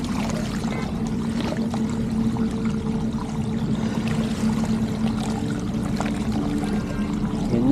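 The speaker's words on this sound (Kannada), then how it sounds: "ಆ ಪೈಪಲ್ಲಿ ತುಂಬ ಫೋರ್ಸಾಗಿ ಬರ್ತಾ ಇದೆ ನೀರು" Water gushes forcefully from a large central pipe beside a road, a steady, dense rushing and pouring noise that holds at an even level throughout, with no talking.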